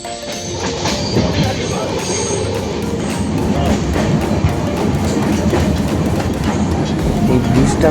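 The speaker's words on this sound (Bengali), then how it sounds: "এই জঙ্গলের মধ্যে দিয়ে কিন্তু ট্রেন খুব স্লো চলে" A passenger train rolls slowly through jungle in the Dooars region, its wheels clacking rhythmically over the rails, loud and close with a steady rumble throughout.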